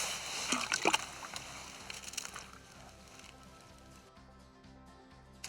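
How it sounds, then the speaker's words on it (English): Walleye released back into water through a hole in the ice, a few brief sloshing splashes early on, then quieter dripping and settling water, close by. "We're going to get him unhooked and get him right back in the water"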